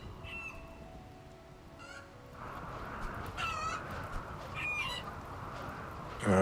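Chickens in the video game RimWorld give a few short clucking and cawing calls over a steady rumbling storm-like background, the calls scattered and moderately near, with no talking.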